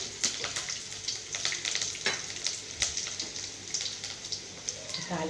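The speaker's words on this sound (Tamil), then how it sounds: "இதை தாளிச்சு ஊற்றி கொதிச்சாச்சு." Steady crackling sizzle of tempering spices frying in hot oil for sambar, with a dense popping hiss and occasional stirring scrapes, close and fairly loud throughout.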